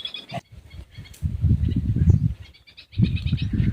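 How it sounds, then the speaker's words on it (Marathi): High, bright chirps and tweets from birds come in short bursts over a low, rumbling background noise outdoors. "पक्षींचा किलबिल आवाज"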